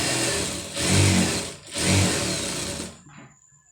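A sewing machine stitches a neck design on a garment, its motor running in two sustained bursts with a short pause between, then winding down and stopping near the end.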